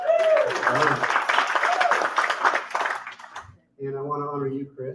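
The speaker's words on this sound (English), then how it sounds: "One more round of applause for Alan." Applause from a congregation at an in-person Sunday church service, a dense, steady patter of many hands clapping for about three seconds before a short pause and a voice speaking.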